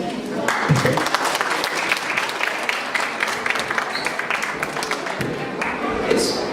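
An audience at a school playback show in a Lihula gymnasium bursts into sustained, dense applause that fills the room, with a voice briefly speaking over the clapping.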